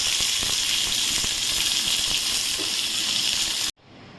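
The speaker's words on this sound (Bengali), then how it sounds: "এতে আমি সর্ষে কারি পাতাটা এই ফোড়নটা এবারে আমি ওইটার উপরে দিয়ে দেবো।" A mustard seed and curry leaf tempering is poured over a semolina snack and sizzles with a loud, steady hiss that cuts off suddenly near the end.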